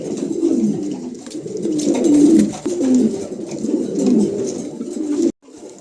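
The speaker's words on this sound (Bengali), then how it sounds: "খুবই চমৎকার এক জোড়া কবুতর মার্শাল্লাহ দেখার মতন" A pair of German pigeons coo steadily and close by, their soft repeated throaty calls running continuously until they cut off abruptly near the end.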